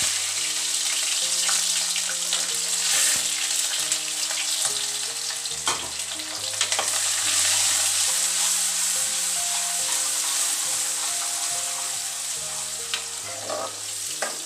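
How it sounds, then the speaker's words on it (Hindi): Onions frying in about half a cup of oil for bhindi gosht, a steady bright sizzle running under loud background music throughout. "इसमें मैंने 1/2 कप के करीब ऑयल डाल दिया है। और अब मैं इसमें प्याज डाल रही हूँ।"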